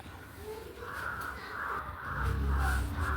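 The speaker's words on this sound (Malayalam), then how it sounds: "ഇവിടെ പിന്നെ കാക്കകൾ എപ്പോഴും ഉണ്ടാവും കേട്ടോ" Several crows caw repeatedly in a loose rhythm, fairly close, with a low rumbling background building toward the end.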